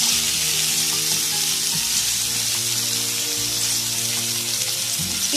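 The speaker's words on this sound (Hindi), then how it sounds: "टमाटर डाल के इसको थोड़ा सा चलाना है" Tomatoes sizzle in a hot pan while being cooked down for pizza sauce, a continuous loud, close crackle with a low hum running underneath and no talking.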